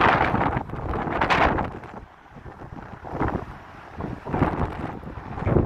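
Gusty outdoor wind on a morning walk in Las Vegas buffets the microphone in loud roaring surges that rise and fall over several seconds, with no talk.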